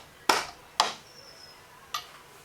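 Three light, close hammer taps seat a snug-fitting part during final assembly of a Portakey, two quick knocks followed by a third after a pause, in a quiet room.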